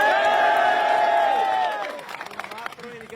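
A crowd at a UDF election rally in Kasargod cheers and applauds loudly, the roar dropping after a moment to scattered claps and voices.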